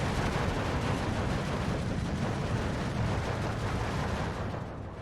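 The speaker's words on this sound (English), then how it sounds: "Since we're using like a little bit of rocket artillery here, between myself and Neon, he has Calliopes and I've got the Katyusha." Rocket artillery barrages from Soviet Katyushas and American Calliopes in the WWII strategy game Steel Division 2, a dense continuous roar of launches and blasts that holds loud and steady, then eases slightly at the end.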